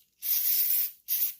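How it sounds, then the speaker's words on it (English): An aerosol can of rust check lubricant sprays onto the dirty jets of a Honda motorcycle carburetor, giving two close hissing bursts, a long one then a short one, with nothing else audible. "We're gonna spray it up."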